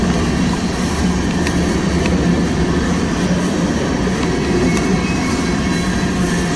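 A BNSF westbound empty coal drag on the Heartland Division near Ashland, Nebraska rumbles past in a loud, steady roar with a constant low-end wash and no pauses.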